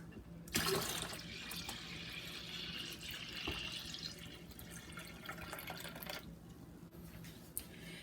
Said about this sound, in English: and the water. I'm adding in 5 cups.